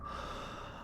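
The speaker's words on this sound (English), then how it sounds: "There was no response, just heavy breathing on the other end." Heavy breathing heard over a telephone line, a steady, close, muffled rush with snort-like and gasping edges running continuously for under a second, with no talk.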